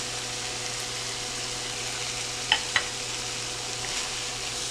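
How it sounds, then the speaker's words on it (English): Ground beef with melting butter and all-purpose flour sizzles softly in a skillet, a steady low frying hiss with two brief spatula scrapes midway, close and without speech. "I'm going to cook this flour and melt the butter into the ground beef for about 1 minute."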